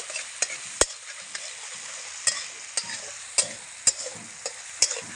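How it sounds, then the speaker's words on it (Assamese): Masala spices stirred and fried in a pan for butter paneer: a steady close sizzle broken by sharp, irregular scrapes and taps of the spoon against the pan, with no voices. "মছলাখিনি ভালকৈ ভাজি ল'ব"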